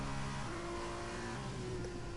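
Open-wheel F2 race cars at Imola in F2 2021 drone past with a sustained, steady engine whine and a slight rise and fall in pitch, loud and close with no voices.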